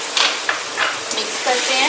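Peas and capsicum stirred in a frying pan, with soft scraping strokes and a light sizzle running steadily underneath, close and alone.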